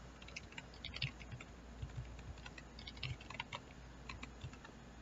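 Computer keyboard typing while setting up an HTML page for a JavaScript Hello World program, a steady run of quiet, irregular key clicks with occasional louder taps, close and alone without talk.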